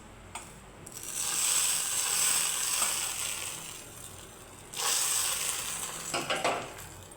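Fried cumin tempering tipped into chutney, a loud sizzle that swells, eases, then flares again as it is stirred, with scraping clatter near the end and no speech.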